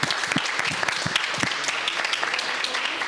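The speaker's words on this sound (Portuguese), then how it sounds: "Uma salva de palmas a todas as equipes." Sustained applause from an audience at a physics team competition in Brazil, a dense steady clatter of many hands clapping throughout, moderately loud and without speech.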